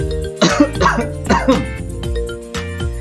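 A person coughs several times in quick bursts, close and fairly loud, with a steady music bed underneath.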